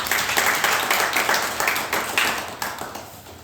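A church congregation claps in thanks at a dawn worship service, a loud, full burst of many hands that starts strong and gradually thins and fades over a few seconds.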